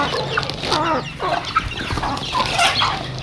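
Several chickens cluck and chatter close by at feeding time while a person calls them, the birds' busy clucks running steadily throughout with a few sharper squawks.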